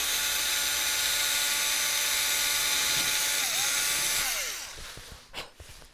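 Small seashells drilled through on a soft backing with a rotary tool, giving a steady high whine that runs continuously for about four seconds and then winds down as the tool stops.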